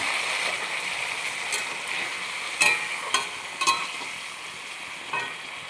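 A paste of onion, ginger, garlic and green chilli sizzles steadily in a frying pan, a continuous hiss broken by a few sharp scraping stirs, with no talking.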